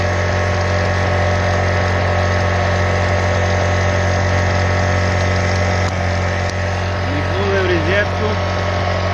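An inverter generator engine runs steadily and loudly at close range, a constant droning hum with a faint voice briefly audible beneath it.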